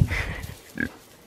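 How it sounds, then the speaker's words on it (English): Pigs on a farm grunt up close, two short throaty oinks about half a second apart, loud and clear with little else around them. "You pigs doing good today or what?"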